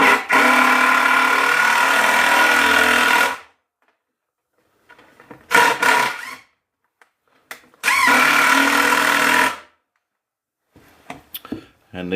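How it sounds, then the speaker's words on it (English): A power drill pre-drills hard reclaimed wood, whining loudly in three separate bursts, the first long and steady, with quiet pauses and faint handling clatter between them. "Get that drill gun here."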